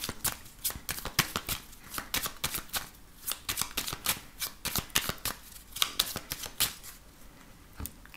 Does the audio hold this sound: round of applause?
no